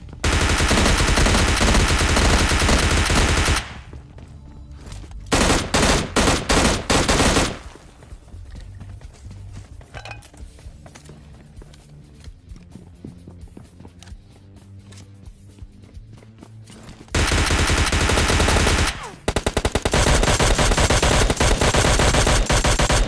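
Automatic gunfire in the mobile battle game PUBG Mobile Lite erupts in loud, dense bursts at the start and again near the end, with quieter rapid shots and footsteps in between.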